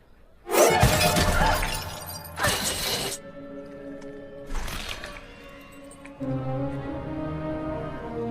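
Glass smashes loudly in a film scene, broken to get at a weapon held on a soldier statue: several sharp crashing bursts with scattered shards, followed by a steady low tonal background hum.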